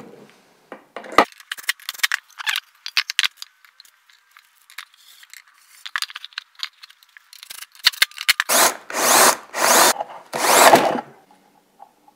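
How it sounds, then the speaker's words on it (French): A screw being driven into a wooden lamp, heard as several bursts of close, rasping turning noise with short pauses between, ending in a louder run of grinding strokes. "Je serre bien fort et je visse."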